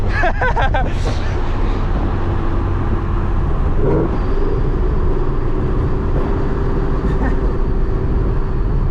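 A car with short gearing drives along, its engine holding a loud, steady drone under heavy road and wind noise, with a faint pitch change partway through; voices talk quietly in the background.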